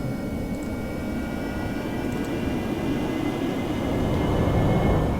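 An AV-8B Harrier jet in DCS World spools up for takeoff, a loud, steady roaring engine with a broad rumbling wash and faint high whine, swelling slightly toward the end with no talking.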